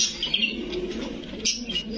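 Fancy breed pigeons at a market stall give a low, soft cooing murmur, mixed with a few high, thin chirps from other birds nearby.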